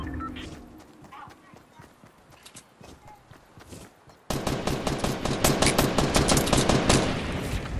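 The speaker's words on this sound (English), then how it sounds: "They're shooting." Video game gunfire, scattered distant shots at first, then a loud, close, rapid automatic burst with rhythmic repeated cracks that keeps going to the end, with people talking over it.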